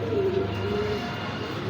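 Pigeons coo steadily in a low, throaty drone, close by and continuous against a soft background hum.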